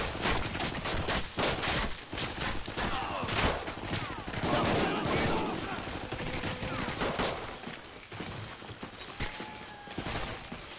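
Dense jungle firefight in Call of Duty, rapid bursts of automatic gunfire and volleys of shots crackling continuously for most of the stretch, easing toward the end, with shouted voices mixed in.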